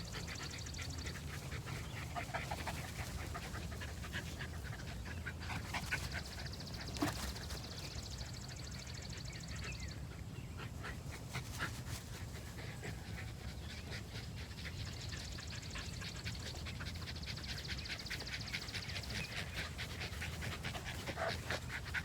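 A dog on a slip lead pants steadily during a calm, loose-leash walk: quick, rhythmic breaths continue through the whole stretch, fairly soft and close, over light outdoor background noise.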